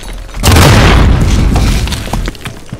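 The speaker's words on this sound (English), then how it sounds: "Grenade out!" A grenade detonates in a Modern Warfare multiplayer battle, a loud, sudden boom that keeps rumbling and decays over about two seconds, heard alone.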